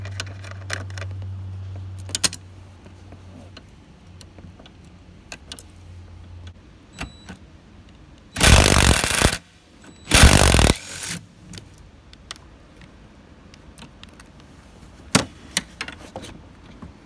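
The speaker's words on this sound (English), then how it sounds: "Find it a little bit easier to use a ratcheting wrench on these bottom ones down here than" A ratcheting wrench backs out 10mm bolts on the lower mounts of a Pontiac Solstice or Saturn Sky convertible top. Two loud bursts of rapid clicking, each about a second long, stand out against a quiet garage with scattered small knocks.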